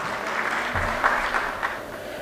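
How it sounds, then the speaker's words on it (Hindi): An audience at a poultry sector policy event claps for a guest speaker, a continuous spread of applause at moderate volume with a few louder bursts, no voices on top. "अभी प्लीज़ एक बार तालियां हो जाए शुक्ला साहब को"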